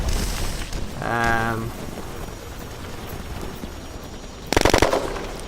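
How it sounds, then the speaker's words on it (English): M14 rifle fire in the online shooter Red Crucible Firestorm: a short rapid burst of sharp shots near the end, with a tonal game sound earlier and background noise. "Why I keep shooting a tank with an M14."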